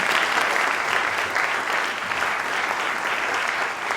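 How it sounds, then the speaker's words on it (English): Sustained applause from a seated audience at a film and TV pitch event, many hands clapping in an even, full roar that holds steady from start to finish. "Give him a round of applause again."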